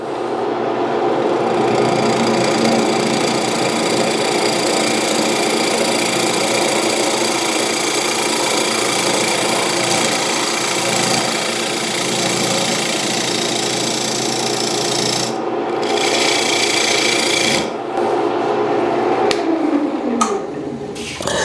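A wood lathe turns a segmented bowl while a mortise is carved out, producing a steady motor hum and whirring drone with faint tool scraping, ending in a few sharp clicks and knocks as it winds down.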